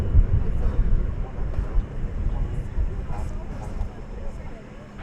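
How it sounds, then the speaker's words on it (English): Airbus A320 airliner, 21 years old, arriving at DFW Airport on a flight from El Paso: a steady, loud broadband jet roar with low rumble that holds throughout, with faint talk under the engine noise. "American Flight 1365 arriving from El Paso in West Texas. It's an Airbus"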